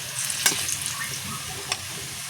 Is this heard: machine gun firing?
no